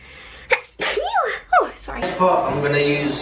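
A sharp sneeze bursts out near the mic during a prom makeup routine, followed by someone talking and a second voice briefly speaking over her.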